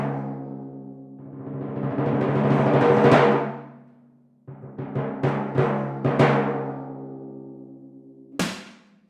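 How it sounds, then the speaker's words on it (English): Marching timpani ring out in a resonant sequence: a swelling roll, then a run of distinct struck notes with sustained pitch, and a final sharp hit, heard close in a quiet space. "These are marching timpani."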